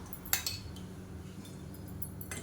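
A cooking pan is handled on the stove, giving a few sharp metallic clinks and knocks close by, with faint room hiss between them and no talk.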